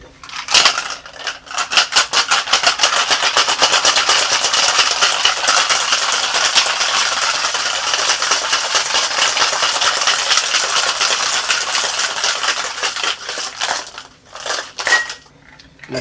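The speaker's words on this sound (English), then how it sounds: "Let's get some ice. And let's give this bad boy a shake." Ice rattling hard inside a cocktail shaker with singani and mate, a loud rapid rhythmic clatter that runs steadily for about twelve seconds and then stops.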